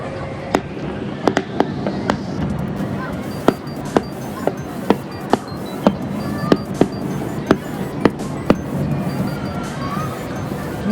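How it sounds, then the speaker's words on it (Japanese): Sharp booming reports from fireworks or blank cannon shots at the Karatsu festival in Saga, one after another at irregular intervals of about half a second to a second, echoing over a steady outdoor crowd murmur. "空に大きく空砲ですかね、花火の音が鳴り響きました"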